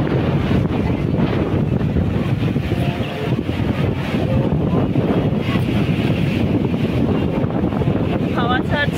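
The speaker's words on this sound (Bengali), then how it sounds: "হাওয়ার আওয়াজটা হয়তো আপনারা পাবেন" Strong wind gusting at Digha beach in rainy weather, a steady loud roar buffeting the microphone with surf and sea noise mixed in, continuous across the whole stretch without speech.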